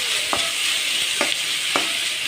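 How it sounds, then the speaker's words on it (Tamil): Tomatoes sauté in a hot pan for a vegetable egg stir-fry, a steady bright sizzle with three spoon strokes scraping through at intervals. "அதனால் வந்து தக்காளி நல்லா வதங்கட்டும்"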